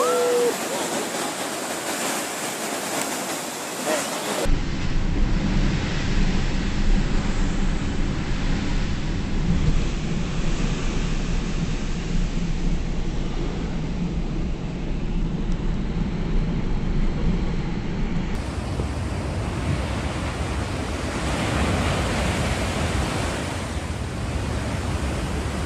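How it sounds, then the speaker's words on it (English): Sea waves break and churn foam on a beach in Newcastle, Australia, a loud continuous surf roar across the whole stretch, with abrupt level changes between segments. "Two girls enjoy the waves of sea foam at a beach in Newcastle, Australia."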